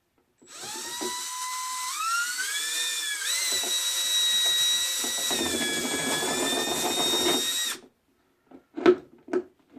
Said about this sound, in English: the first thing I'm going to do here is drill this 1-inch hole in the top of this.